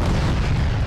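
A 125mm tank cannon fires in the Arma 3 video game, a single loud, deep, sustained boom that fills the short moment with no talk.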